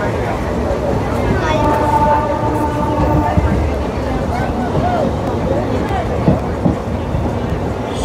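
An electric locomotive pulls a train away on the Jalandhar–Hoshiarpur line, giving a steady close rumble with faint whining tones and a few clanks, and voices murmur in the background.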